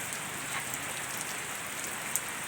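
Steady rain in a storm with wind pours down in a dense, even hiss, with a few scattered drops pattering close by.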